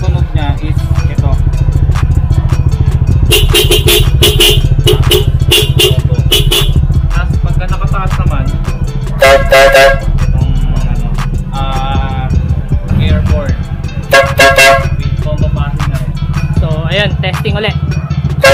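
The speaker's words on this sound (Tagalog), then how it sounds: "Bali, ito yung busina." Motorcycle horns on a Honda ADV 150 fitted with a dual stock horn and a loud compact horn, sounding in repeated loud blasts of varying length over a steady engine hum, with someone talking between the honks.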